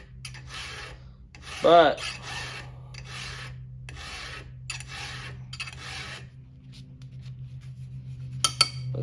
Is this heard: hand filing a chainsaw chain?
yes